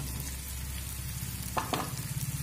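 Pumpkin pieces, fried beforehand, sauté with soybean chunks and spices in a pan over a medium flame. A steady close sizzle runs throughout, broken by a couple of brief scraping stirs near the end.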